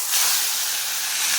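Taro leaves hit hot oil with fried garlic in a pan, a loud close hiss of sizzling that stays steady and bright for the short moment, with no talk.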